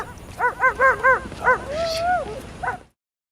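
A dog gives a run of four quick yips, a long rising whine, then another short yip, close and fairly loud with nothing else going on.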